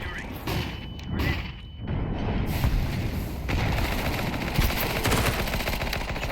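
Gunfire in Counter-Strike 2, with rapid rifle bursts from an M4A4 or M4A1-S, mechanical clicks and reload sounds, and steady shooting through most of the clip while players talk faintly.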